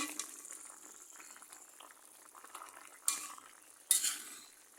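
A taro and hilsa fish curry cooking in a pot, heard as a faint, soft bubbling with light clinks of a utensil and two brief louder scrapes or splashes near the end, without voices.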